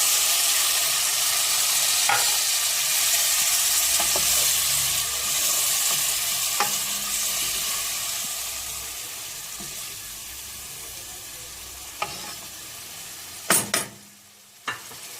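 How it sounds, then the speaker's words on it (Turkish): Tomatoes and dried tomatoes sizzle in a pan for a chickpea stew as a little water is added, producing a loud, steady hiss with occasional stirring clicks and a few sharp utensil knocks near the end. "Domateslerimiz yapışmasın diye az su ilave ediyorum."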